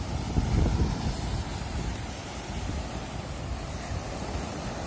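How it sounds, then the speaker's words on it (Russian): Rough sea waves churn and wash continuously against a stony beach in Mersin, Turkey, a loud rumbling surge mixed with gusting wind, no talking. "Волны сильные."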